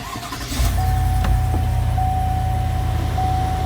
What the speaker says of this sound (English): start it up again